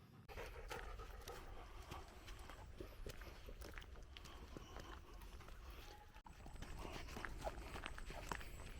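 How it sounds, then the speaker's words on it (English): Quiet rhythmic dog panting close by, mixed with footsteps on the ground on a forest walk in an otherwise still outdoor setting. "No sound other than the dog panting."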